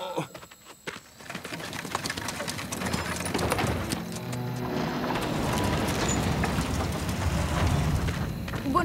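Cartoon horses clip-clopping in a steady, brisk rhythm of hoofbeats that builds and continues throughout, with some rattling and scuffing mixed in.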